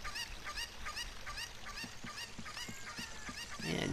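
A chicken in the Ocarina of Time video game clucks in a quick, repeated series of short squawking calls, faint and alone.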